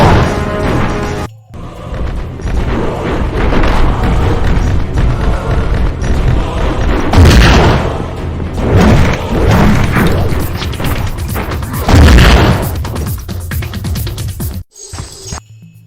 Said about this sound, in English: using the arm cannon in this game is awesome